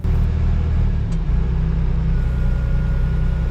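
A vehicle's tires rolling up and cresting over the side of bricks, heard as a steady, loud low engine rumble with a continuous rolling drone and one brief bump partway through.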